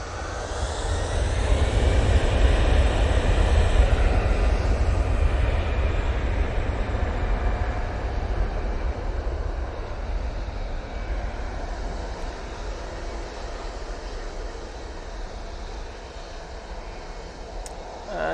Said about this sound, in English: that's the Easyjet off to Ljubljana